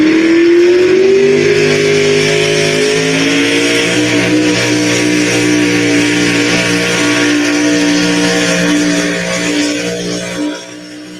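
A truck engine revs up loudly and holds a steady, strained drone for several seconds before dropping away at the end.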